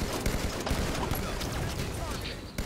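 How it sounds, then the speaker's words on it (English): Dense, continuous gunfire and explosions from a Halo 5 multiplayer match, with rapid overlapping shots and blasts at a steady loud level, mixed with game effects. "So much explosion!"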